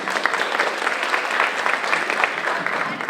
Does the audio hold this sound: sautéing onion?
no